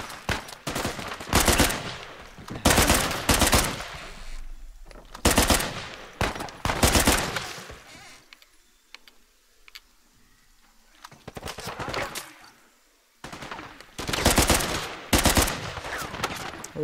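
Bursts of automatic gunfire from the video game Uncharted 4, loud rapid volleys separated by short quiet gaps, several long strings of shots in a row.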